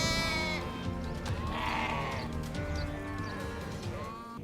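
Purebred sheep and newborn lambs bleat in a shepherd's yard, several overlapping calls close by, some long and wavering, others short and higher, over a busy farmyard background.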